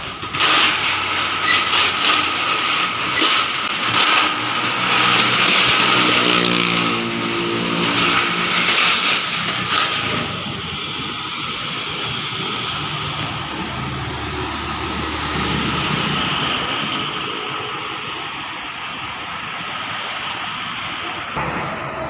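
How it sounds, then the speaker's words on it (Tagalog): A Mio MXI scooter fitted with a 500cc racing engine starts and runs, loud and close with a revving roar for the first ten seconds, then settling into a steadier, quieter idle rumble. "First start ng engine."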